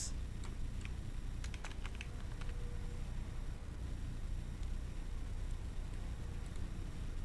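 Someone types code on a computer keyboard in a quick, irregular run of light clicking keystrokes, fairly close and clear over a low steady room hum, with no voices.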